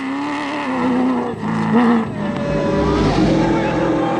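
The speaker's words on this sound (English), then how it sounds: "Navara has one of the most beautiful soundtracks in the world of cross-country motor racing" A Nissan Navara cross-country racing truck's engine roars loudly and close, its pitch climbing and dropping through gear changes, with a voice talking over it.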